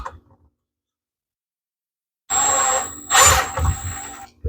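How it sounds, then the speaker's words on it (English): A power drill drives a screw into ash wood for vanity drawers, whining loudly and close in a sustained burst after a quiet stretch, with a sharper surge midway and the motor dropping off near the end. "because we're drilling into ashwood"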